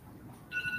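A mobile phone starts ringing partway through, its electronic tone clear over low room noise during an identity-management tech talk.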